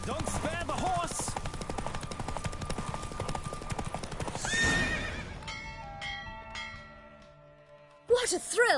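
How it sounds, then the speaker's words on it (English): Horse neighing and galloping during a race in The Witcher 3 on PS5, a whinny rising over steady hoofbeats under game music and sound effects, with a second loud neigh near the end. "Don't spare the horse."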